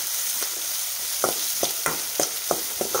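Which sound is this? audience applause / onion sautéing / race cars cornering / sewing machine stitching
onion sautéing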